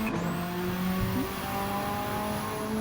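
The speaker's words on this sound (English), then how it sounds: "make the most of this fantastic Subaru Impreza rally car build" Subaru Impreza rally car in Gran Turismo 7 holds a steady engine drone with a short pitch shift near the middle, loud and continuous with no talk.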